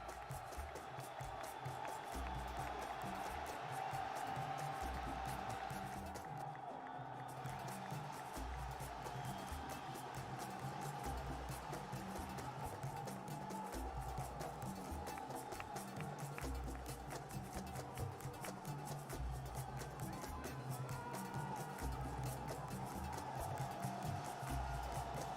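A large Dota 2 arena crowd roars for Evil Geniuses, a steady, dense wall of cheering and shouting that carries on unbroken and loud throughout.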